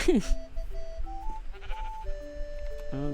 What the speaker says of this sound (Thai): ก็ตอนนี้เราเจอแกะเนาะ มา เจ้าแกะน้อย มากับขาซะดีี